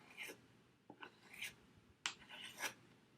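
A knife blade scrapes across an old sharpening stone in a few short, separate rasping swipes, quiet and close with brief pauses between strokes.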